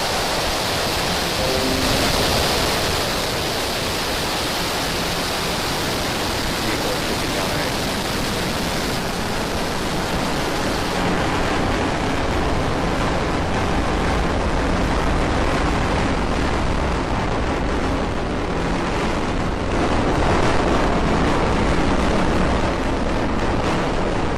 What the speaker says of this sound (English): Ignition. Liftoff of Falcon 9 and Starlink 8.